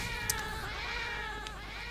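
Cat meow from the Monster Hunter Online video game, a short, bright cry that repeats a couple of times over a steady bed of game music and ambience.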